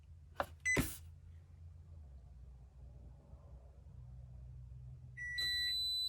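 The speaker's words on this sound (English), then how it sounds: "You heard the beep from the microwave" Short electronic beeps from a microwave powering on via an inverter in a Jayco caravan ring out, a quick pair early on, then a longer steady tone near the end, over a low constant hum.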